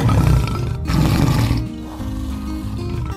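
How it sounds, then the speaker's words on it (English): A tiger roars loudly and close up, a long, rough, growling rumble that tails off into a lower second growl. "老虎发出了咆哮声。"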